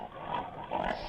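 Video game pigs letting out a short run of nasal oinks and grunts, close and moderately loud, two grunts in quick succession with nothing else alongside.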